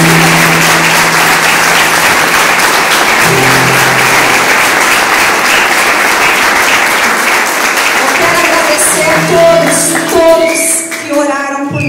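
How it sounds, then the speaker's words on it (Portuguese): A church congregation breaks into sustained applause, a dense wash of clapping lasting throughout, with several voices speaking and singing over it toward the end. "Vamos aplaudir ao Senhor."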